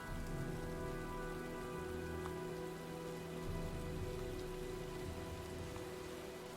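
Steady rain patters on surfaces as a storm rolls in within the video game Heavy Rain, a dense continuous hiss with faint low rumbling underneath. No voices are heard.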